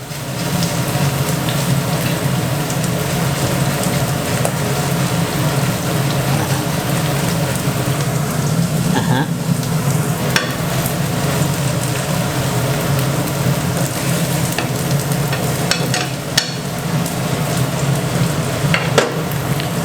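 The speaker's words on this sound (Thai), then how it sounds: "เราก็จะทอดไปจนกว่า แป้งข้างล่างมันจะกรอบ" Mussel pancake batter fries in a hot pan with a steady, dense sizzle and crackle that holds evenly throughout, loud and close with no talk.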